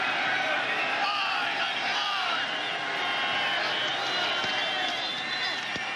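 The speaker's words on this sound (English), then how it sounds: "So the faithful from East Carolina who have come down here are up and cheering" Crowd noise from East Carolina fans at a college football game in Miami, a broad steady roar of cheering and shouting that fills the stadium throughout, with no letup.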